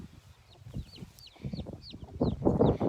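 Small chicks in a farm pen, with high thin peeps scattered over soft clucks and scratchy rustling that grows louder toward the end.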